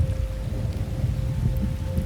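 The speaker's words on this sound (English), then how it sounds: "Today's the first time I can remember seeing rain." Steady rain falls close by in a continuous broadband hiss, with a low rumble underneath and a faint steady tone running through it; no voices.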